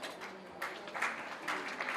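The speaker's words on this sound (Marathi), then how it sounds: "कृपया टाळ्या वाजवाव्यात." Scattered clapping from an audience at an award ceremony, quiet and somewhat distant, swelling briefly in a few bursts over a hushed hall.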